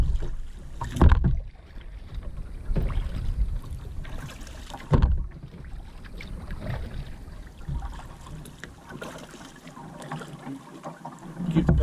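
Kayak paddles dip and splash on a river at a steady, uneven rhythm, with several louder strokes standing out over faint water trickle and light wind, close to the microphone.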